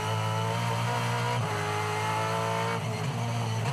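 Onboard a Supercars race car driven by Cam Waters at the Townsville 500, the engine roars loud and close with a steady high-revving drone, shifting pitch as it changes gear.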